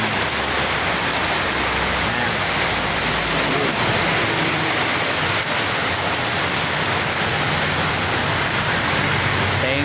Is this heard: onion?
no